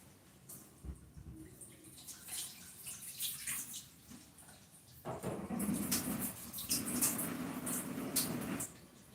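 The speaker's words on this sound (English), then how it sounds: "Let me drain the water from it." Water draining and splashing from freshly washed green peppers, growing louder and fuller in the second half as the flow runs steadily into a sink.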